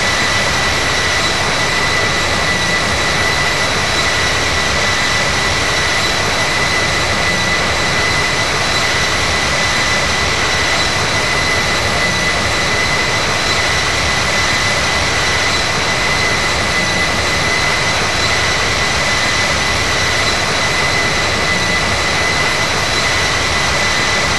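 Steady, loud whine and roar of CRJ 1000 jet engines idling on a runway in the Infinite Flight simulator, a constant drone with bright high tones that holds unchanged throughout, with no voices.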